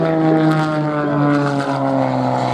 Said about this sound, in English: the incredible power of the engine that powers the M.C.A.S RH